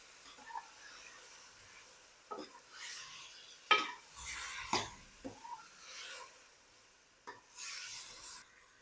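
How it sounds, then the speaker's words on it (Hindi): A spoon stirs cauliflower through spice masala in a pan for a gobi and chana dal curry, producing soft scraping rubs and a few sharper knocks at irregular moments, fairly quiet and close. "और चम्मच फेर लूँगा मैं इसमें अच्छी तरह से, ताकि गोभी और हमने जो मसाला बनाया है ये अच्छी तरह से मिक्स हो जाए।"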